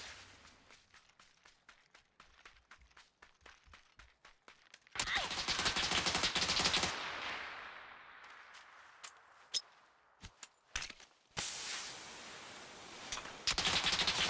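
Bursts of automatic gunfire in the battle royale shooter PUBG, with sharp single shots, a long sustained volley, scattered cracks and footsteps between, loud and close.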